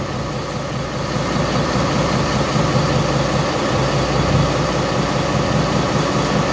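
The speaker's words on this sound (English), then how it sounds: "We can give them a little rev here." An FPT NEF 400 marine diesel runs aboard a Luhrs 32 boat, giving a loud, steady, rumbling drone throughout with a slight rise in revs partway, and no talk over it.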